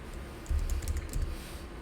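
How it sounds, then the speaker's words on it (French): Someone types an SQL command on a computer keyboard in a short quick burst of keystrokes that starts after a brief pause, close and fairly soft, with no talking. "on tape juste insert"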